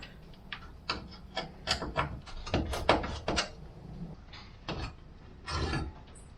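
Screws being undone by hand to free a fuse and relay panel inside a Freightliner ambulance being stripped for a camper build, heard as close squeaky turning, rubbing and clicking in irregular bursts.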